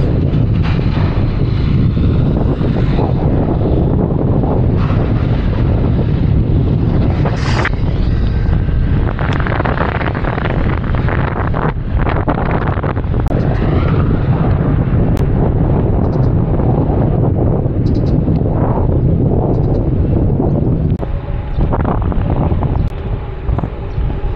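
Strong wind buffeting a rider's microphone during a couple's motorcycle ride to Baguio along Kennon Road, a loud continuous roar with gusty low rumbling and no voices.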